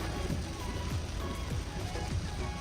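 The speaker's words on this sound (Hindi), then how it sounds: "बहुत बहुत बहुत ज़्यादा तेज बारिश हो रही है, जबरदस्त।" Very heavy rain pours down in a dense, constant hiss of drops on surfaces, loud and unbroken, with faint low background sounds beneath it.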